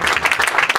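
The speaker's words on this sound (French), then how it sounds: "Acclamons pour Jésus." Church congregation clapping in brief, rhythmic applause, a short burst of many hands at moderate loudness.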